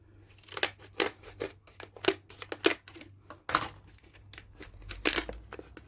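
Scissors cutting open craft supply packaging, with a rapid series of close snips and crisp plastic crinkles coming in uneven bursts, loud against a quiet background.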